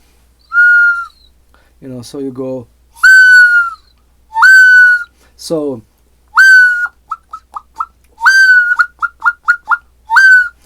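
Handheld bird-call whistles, each one imitating a single bird species, sound in clear, loud chirps and trills: single calls followed by rapid repeated bursts, with someone briefly talking between them.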